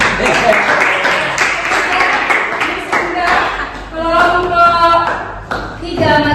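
Students in a classroom clap for a group that has just presented, a dense burst of applause at close range, with voices cutting in and talking partway through.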